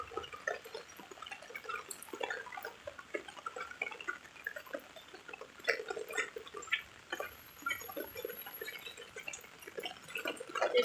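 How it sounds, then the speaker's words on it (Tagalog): Heavy rain falls outdoors near a building, a faint, steady patter with scattered drips and splashes that continues throughout. "Grabe ulan."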